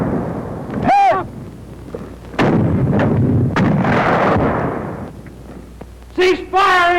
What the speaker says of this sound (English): The 37 cuts them down to size.